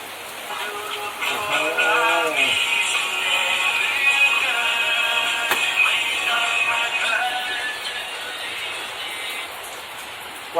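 Rain patters steadily on a boat in the background while a short musical or tonal sound and some faint voices rise over it, then fade.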